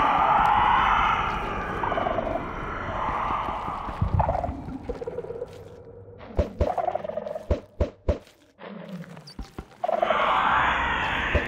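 Fowl gobbling and squawking in modded Minecraft, loud bursts at the start and end with a series of sharp thumps and clicks in between.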